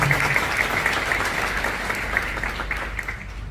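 An audience at an obstetrics congress applauds in a steady, dense wash of clapping that continues evenly throughout and fades slightly at the end.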